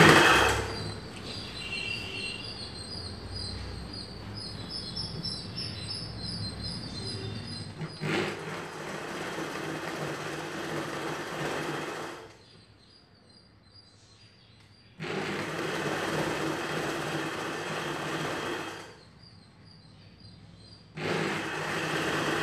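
A sewing machine stitches folded fabric edges on the back part of a Punjabi salwar dress, running in long steady whirring bursts with quiet pauses between them.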